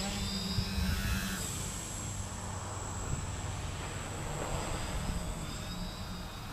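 A large Dynam 650 quadcopter with a DJI Naza-M Lite flight controller hums its motors in flight, a steady whirring drone that swells slightly midway as the throttle is punched.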